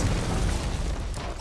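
A gunpowder stash blows up in the castle strategy game Stronghold Warlords, a dense rumbling boom that stays loud and sustained through the clip with no voices.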